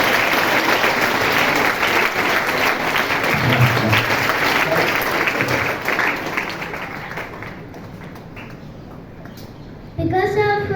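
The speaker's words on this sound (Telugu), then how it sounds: "wishes and blessing with a big round of applause" School audience applauding loudly and steadily for a student's chess rating achievement, the clapping thinning and fading toward the end before a voice cuts in.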